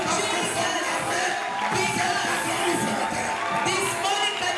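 A church congregation at an apostle's ordination service cheers and claps together, a dense, steady wash of crowd noise and shouting heard from within the hall at moderate volume.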